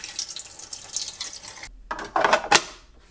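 Tap water pours into the reservoir of a Keurig K-Duo coffee maker, a close steady splash that cuts off midway, then a few louder gushes and a brief surge of filling before settling.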